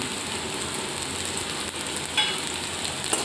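Chopped garlic fries with onion in a pan for spicy Maggi noodles, a steady close hiss of sizzling oil with a brief clink toward the end; no talking.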